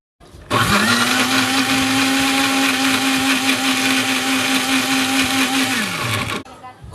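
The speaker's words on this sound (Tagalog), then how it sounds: "Okay, blender ko na." A blender mixing a chicken marinade roars loudly and steadily for several seconds, whirring at a constant pitch before winding down and stopping.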